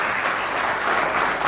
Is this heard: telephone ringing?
no